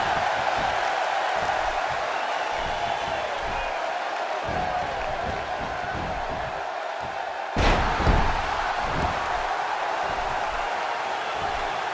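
A WWE 2K16 arena crowd keeps up a steady, dense roar throughout, with one brief heavier thud and swell about two-thirds of the way in.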